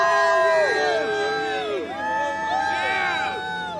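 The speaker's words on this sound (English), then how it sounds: "And this crowd is getting fired up here." Crowd cheering at a Trump rally, many voices whooping and shouting together in rising, overlapping calls, loud and close, with excited yells swelling in waves.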